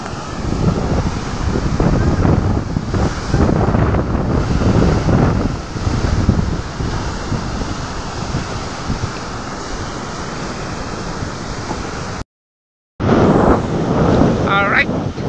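Wind and surf on a seashore by a river mouth with lots of driftwood, a loud continuous roar with heavy wind buffeting the microphone, a brief cut near the end, and a voice faintly underneath.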